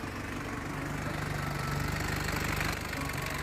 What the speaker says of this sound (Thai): เดี๋ยวมาลองฟังเสียงเครื่องยนต์แล้วก็ดูการทำงานของเครื่องยนต์กันเลยนะครับ